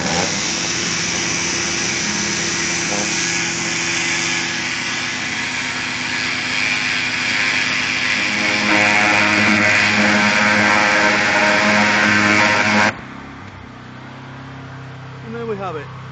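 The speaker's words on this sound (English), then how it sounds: "this is a demonstration of a turbo nozzle at 3000 psi going through a piece of wood." A pressure washer with a turbo nozzle at 3000 psi blasts through a piece of wood, a loud, continuous roaring hiss that swells louder partway through, then cuts to a quieter motor hum near the end.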